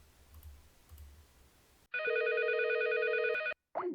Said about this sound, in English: let's do some call from one soft phone to another